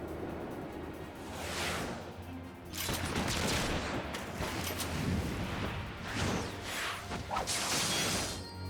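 Combat in Final Fantasy XIV: A Realm Reborn brings muffled gunshots and crashing impacts in a dense, busy mix, fairly quiet and without clear separate shots.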